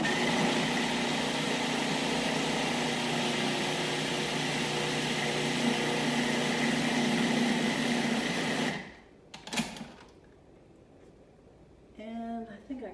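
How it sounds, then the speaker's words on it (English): A food processor runs continuously blending basil pesto, a loud steady motor whir for several seconds before cutting off, followed by a couple of short pulses and brief clatter. "Let's get this out and pulse it a few times. And then turn it on."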